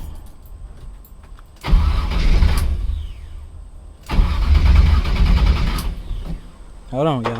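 A car engine cranks and catches twice, each time roaring into a loud, rough running rumble before cutting out, with a person speaking briefly between attempts.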